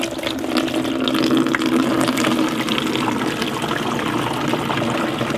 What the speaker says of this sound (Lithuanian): porą litrų vandens pripilam